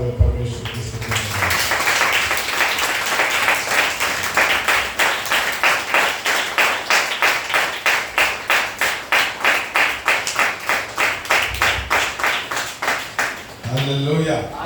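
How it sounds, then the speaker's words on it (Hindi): A church congregation claps hands in a fast, even rhythm while praising God, dozens of palms striking together loudly for several seconds alongside music and voices. "ताली बजाते हुए परमेश्वर की स्तुति करेंगे"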